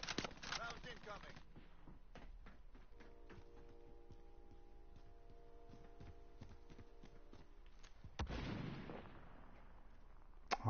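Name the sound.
incoming gunfire in a video game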